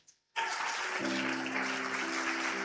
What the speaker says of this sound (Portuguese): Só quem acredita aplauda o nome de Jesus